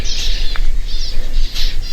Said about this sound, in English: You can hear lots of finches and things there.